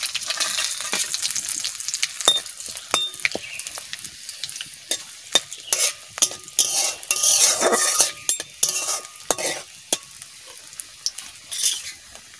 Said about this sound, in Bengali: তেল দিয়ে দিচ্ছি, পাঁচফোড়ন আর শুকনো লঙ্কা একসাথে দিচ্ছি, তেজপাতা দিয়ে দিচ্ছি।